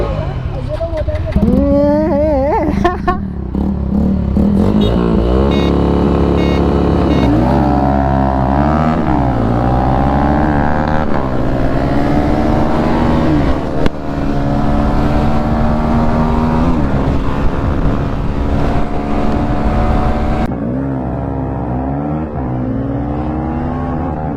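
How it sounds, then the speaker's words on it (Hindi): A Bajaj Pulsar F160 and a Pulsar NS160 ride together in a drag race, their engines revving loudly and close, rising and falling in pitch through repeated gear changes over a long continuous run. "मैं चला रहा हूँ बजाज पल्सर F160 और राहुल चला रहा है NS 160"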